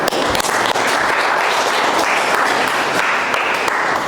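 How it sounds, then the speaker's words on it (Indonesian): Applause from a classroom of trainee-teacher students during a lesson, dense steady clapping from many hands filling the room, loud and continuous with no talk over it. "Oke, boleh tepuk tangan."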